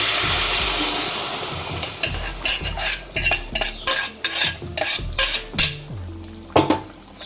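A spoon scrapes and stirs sprouted moth beans into a thick, bubbling gravy in a pan for Puneri misal, in a steady series of wet strokes with a faint sizzle underneath, no voices.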